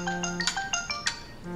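An incoming-call phone ringtone from a film plays as a bright, chiming electronic melody of repeated tones. It sounds close and clear, with no talk over it.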